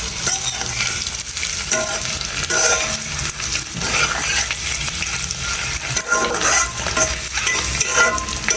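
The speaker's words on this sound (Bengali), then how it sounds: "আমার কিন্তু ডিম রান্না শেষ, ডিম ভোনা মানে ভাজা ডিম।" Eggs fry and get stirred in a pan for a home-cooked Bengali egg dish. A steady, close sizzle runs throughout, with scraping stirs and small clinks of the utensil against the pan.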